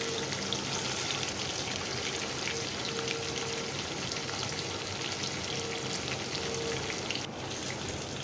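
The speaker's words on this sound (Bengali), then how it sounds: "একইভাবে আমি অন্য মাছগুলো ফ্রাই করে নেব।" Hilsa fish frying lightly in hot oil, a steady, dense crackling sizzle that holds evenly throughout, close and fairly soft, with no speech.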